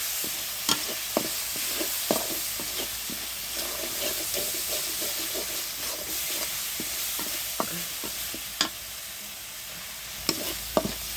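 Ginger, garlic and onion paste frying in a pan for a spicy dried fish mash, a low steady sizzle broken by sharp clicks of a utensil stirring and scraping.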